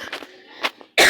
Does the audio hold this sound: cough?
yes